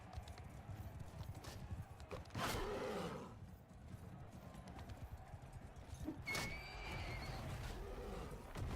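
A horse in a medieval fantasy video game whinnies twice amid clip-clopping hooves and battle ambience, the calls fairly loud against a steady rumbling background.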